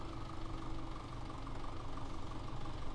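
A tractor hooked to a forage machine with the PTO engaged idles in Farming Simulator 17, giving a steady, low, continuous engine rumble with a faint knock, unchanging and moderately quiet, with no voices.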